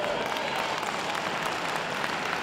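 Quieter, steady applause from a dog show crowd at Manchester 2017, greeting a Skye Terrier's Terrier Group win as a continuous wash of clapping.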